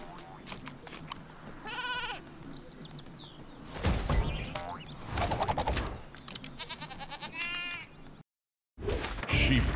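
The Sheep Creep enemy in the video game Skylanders Trap Team bleats in several wavering, goat-like cries mixed with game music and effects, loud and close, with a brief dropout near the end.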